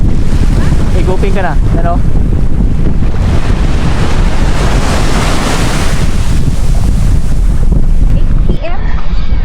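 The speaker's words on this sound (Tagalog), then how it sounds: "Malakas na yung hangin." Strong wind buffets the microphone on the beach at Rapid Bay, a constant roaring gust with surf mixed in, while people speak briefly over it.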